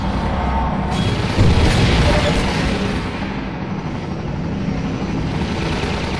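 A Combine gunship flying in Half-Life 2 along Highway 17, a loud, continuous broad rotor-and-engine roar that fills the whole stretch, with a brief surge near the start.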